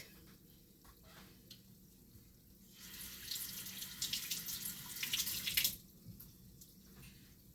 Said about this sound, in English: we're gonna fry these until they get golden brown